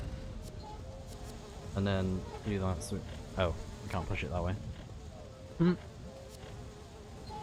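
Bees buzzing in the video game Sudeki, a low steady drone running beneath someone talking over gameplay.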